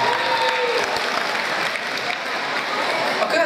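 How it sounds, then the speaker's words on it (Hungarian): A school audience at a student quiz show breaks into sustained, loud applause, a thick continuous roar of clapping with some crowd voices mixed in. "Nagy tapsot neki."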